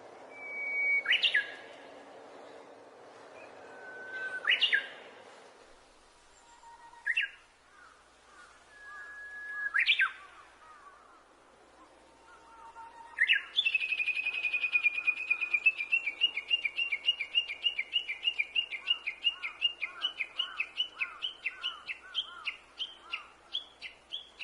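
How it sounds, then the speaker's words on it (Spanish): Wild birds singing: several separate chirping calls come first, then a long rapid trilling song of repeated notes, clear and close against a quiet background. "cantos de las aves"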